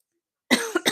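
After a moment of silence, a person with a lingering cough and sore throat lets out a quick cluster of two or three harsh coughs, close and clear.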